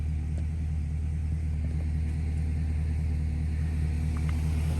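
A Nissan Skyline BNR32 idles with a deep, steady low rumble at close range as it gets ready to roll out, engine note constant and loud with no talking.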